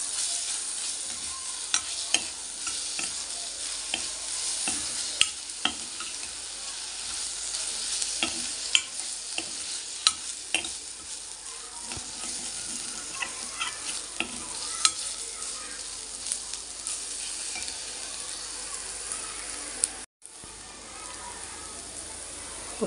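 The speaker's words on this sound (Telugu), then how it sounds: "ఇది కూడా పచ్చివాసన పోయేదాకా వేయించాలన్నమాట." Ginger garlic paste fries in a pan with onions, a continuous close sizzle broken by scraping stirs and occasional sharp clicks of a spoon against the pan.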